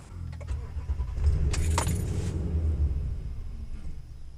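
A 2010 Toyota Tundra with a crank-no-start fault cranks over with a steady low rumble and a brief louder burst partway through. No one speaks.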